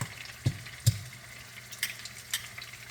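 Steak searing in a hot pan over medium heat, a low constant sizzle broken by a few sharp knocks and taps from the pan or utensil.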